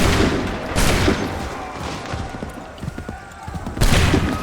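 A musket volley erupts in the Assassin's Creed 3 video game, with bursts of crackling gunfire at the start and again near the end, separated by scattered shots and battlefield clatter.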